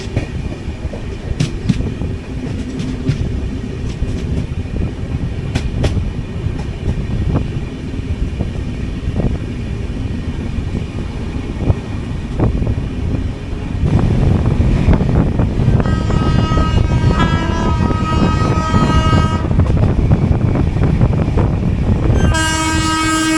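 WAP-7 electric locomotive hauling the Durg–Nizamuddin Sampark Kranti Express passing close by, a sustained rumble and clatter of wheels over rail joints rising as it goes by, with horn blasts sounding partway through and again at the end.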